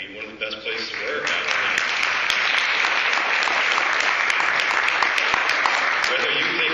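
Steady, loud audience applause fills the whole stretch, a dense continuous roar of many hands clapping in a large hall, with no voices over it.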